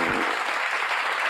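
A canned applause sound effect played from a soundboard, a thick, even burst of clapping and cheering at constant loudness for just over a second.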